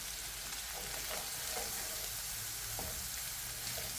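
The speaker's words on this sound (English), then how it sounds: "we're kind of making a roux in our bacon and stuff" A roux of corn flour in bacon fat sizzles steadily in a pan for peri peri chicken livers, a dense close hiss with faint stirring scrapes and small crackles throughout.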